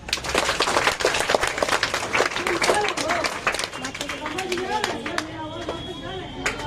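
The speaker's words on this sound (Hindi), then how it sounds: "एक जोरदार ताली दो" Children at a morning prayer assembly give a round of dense, energetic clapping. It gradually thins out as voices and chatter take over.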